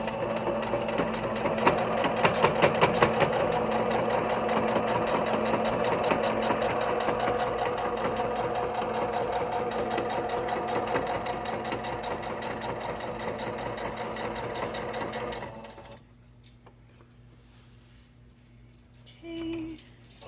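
A sewing machine runs steadily for about fifteen seconds, stitching around a pocket on a beginner's half apron with a quarter-inch seam and backstitching, then stops, leaving a faint hum and a brief click.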